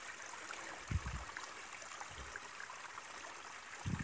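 The Malmag mountain river in Mindoro, flowing from Mount Halcon, gives off a steady, soft rushing hiss with a few low thuds underneath.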